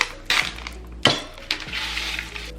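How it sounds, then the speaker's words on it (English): Tomatoes tipped into a cooking pot, with a few close metallic clanks and soft wet thuds in quick succession, and no voice over them. "Okay, so tomatoes go into the pot."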